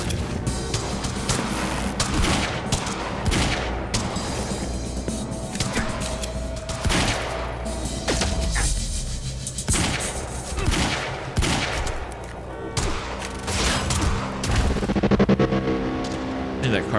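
Heavy gunfire from a recoiling rifle in the Quantum Break video game: dense, continuous bursts of shots mixed with booms and mechanical clatter, loud and close, over a busy game soundscape.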